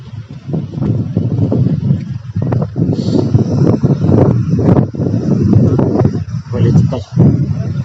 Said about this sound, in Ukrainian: Неприємно ходить, сильний вітер